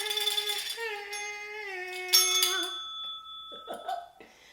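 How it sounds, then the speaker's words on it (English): A bright electronic doorbell-style chime rings out in sustained, ringing tones, struck again midway, followed by brief light giggling sounds near the end. "Ring that bell, darlings."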